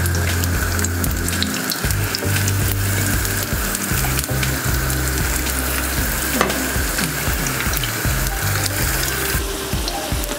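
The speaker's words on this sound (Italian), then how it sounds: "Una volta che l'olio è arrivato a temperatura vado a soffriggere le zucchine per la decorazione del piatto" Zucchini frying in hot oil gives a loud, dense, unbroken crackling sizzle close by, with faint clinks and stirring underneath throughout.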